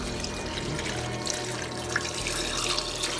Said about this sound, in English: Cover the vegetables with water.